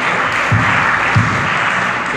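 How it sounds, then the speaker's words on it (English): A room of parents and guests applauding a student called to the front at a church or school gathering, steady sustained clapping at moderate loudness. "another round of applause from the parent"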